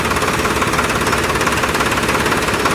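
Tractor engine running steadily during a test drive, a dense continuous rattling drone at constant loudness from start to finish, close to the microphone with no talk.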